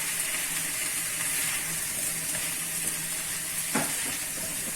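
Steady broadband sizzle of boiled potato cubes hitting hot oil with frying flat green beans, continuous and close, with a brief clatter near the end and no voices.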